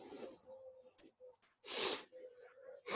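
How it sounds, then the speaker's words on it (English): A few sharp nasal sniffles and snorts, fairly close, in short bursts between stretches of quiet, with a brief voiced murmur. "Sorry for the sniffles."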